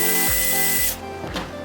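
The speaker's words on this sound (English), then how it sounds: "But I think I'm gonna have to drill through it anyways." A power drill boring through a rivet while swapping the steering rack on a BMW E30, a loud whining motor that bogs down in pitch twice, then cuts off and leaves a quieter tail.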